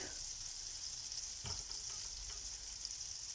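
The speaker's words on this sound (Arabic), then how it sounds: "هاد الزبده انا درتها في مقله بهذا الشكل، نخليها تذوب كامله" Butter melts in a frying pan with a soft, steady hiss of sizzling, quiet and even throughout with one faint tap of a utensil, no voices.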